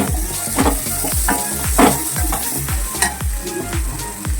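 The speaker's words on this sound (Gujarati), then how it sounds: "નાખી દઈએ થોડા કાજુ અને બટેકા અને ટામેટા જવાથી હલાવી દઈએ" Cashews, potatoes and tomatoes being stirred and fried in a pan for a masala pulao, giving a loud, close sizzle with repeated scraping strokes of the spoon in a steady rhythm and no voices.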